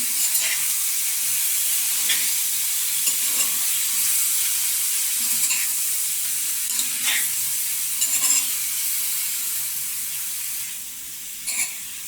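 Chunks of elephant foot yam sautéing in hot oil in a pan, a steady close hiss of sizzling with faint stirring scrapes, alone.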